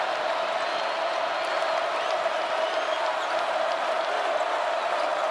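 A basketball arena crowd at Duke vs. Wake Forest in Winston-Salem rises and cheers in a steady, broad roar of voices and applause, heard at a distance.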